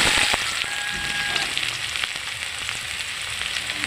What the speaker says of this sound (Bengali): পেঁয়াজগুলো লাল লাল করে একটু ভেজে নেব।